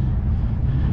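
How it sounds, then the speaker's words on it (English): Strong wind buffets the microphone in a loud, continuous low roar that fills the whole moment. "It's fucking freezing, it's very windy"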